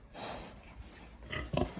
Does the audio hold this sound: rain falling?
no